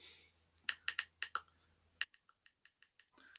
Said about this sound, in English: bring up the keyboard and I can type all my information